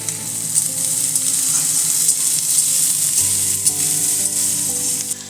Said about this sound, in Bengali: পেঁয়াজটা কিছুক্ষণ ভেজে নেবার পর